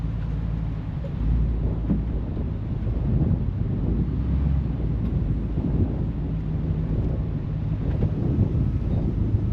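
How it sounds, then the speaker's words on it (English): Strong wind gusting before an approaching storm high on a mountain pass, a steady low roar and rumble buffeting the microphone for the whole stretch, with no voices. "That is the wind picking up for the storm that's coming."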